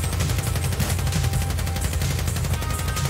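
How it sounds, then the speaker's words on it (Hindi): Rapid, dense gunfire in the video game GTA V: a loud, continuous burst of shots with no pauses and no talking over it. "ओए वो आठ ही गोलियां चलाई जा रहे हैं"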